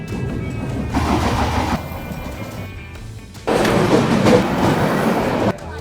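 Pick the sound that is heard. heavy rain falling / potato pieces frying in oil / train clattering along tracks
train clattering along tracks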